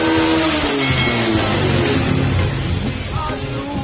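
A Honda Wave 125 motorcycle engine, freshly tuned and timed, revving steadily at full throttle close by, a loud continuous buzzing drone that holds for a few seconds with no talk over it.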